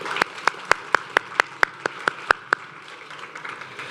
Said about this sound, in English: So please join me in giving Larry and his team a round of applause.